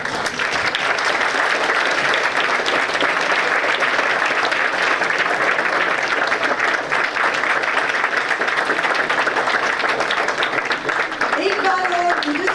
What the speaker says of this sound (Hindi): प्लीज बच्चों आप सब खड़े होके एक बार मैम के लिए ताली बजाओ।